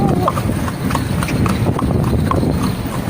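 Horse hooves clip-clop at a steady trot as a horse pulls a kalesa carriage along the boulevard in Dumaguete City, close and continuous, with people talking over the rhythmic hoofbeats.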